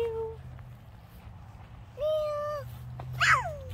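A cat meowing outdoors near a pumpkin patch, with a few drawn-out, clear meows at moderate loudness over a low background hum.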